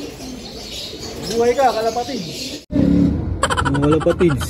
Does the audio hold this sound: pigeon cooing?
yes